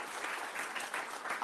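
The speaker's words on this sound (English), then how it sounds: "A big round of applause for you two." Audience applause at a responsible AI evening event, a dense burst of clapping from a seated crowd right after a pitch, steady and fairly close for its short length with no voices over it.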